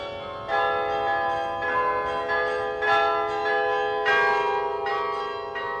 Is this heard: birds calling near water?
no